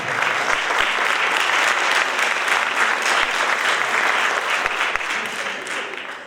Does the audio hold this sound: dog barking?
no